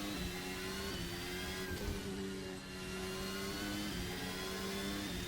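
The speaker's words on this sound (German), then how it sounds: "Oh, scheiße, wie der Motor knurrt" F1 2023 mod car in the Assetto Corsa racing game, engine droning steadily at high revs with a brief dip around a gear change, loud and continuous with no talk.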